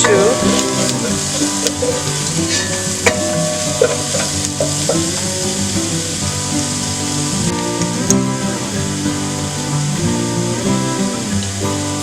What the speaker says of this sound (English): I'll go ahead and fry this for a little bit, maybe about a minute or 2